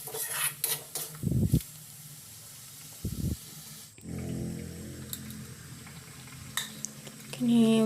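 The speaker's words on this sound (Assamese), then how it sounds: "পানী দি এইখিনি ভালকৈ লৰাই ল'লোঁ আৰু এতিয়া উতল আহিবলৈ দিম" Curry with added water is stirred in a pan and left to come to a boil, giving a hiss and faint bubbling with a few utensil clinks and scrapes against the pan, while a voice speaks intermittently.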